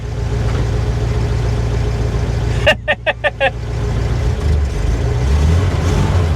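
A 1953 Pontiac Chieftain with a straight-eight engine idles with a loud, steady low rumble, broken midway by a short run of sharp rhythmic clicks or chirps before the even idle carries on.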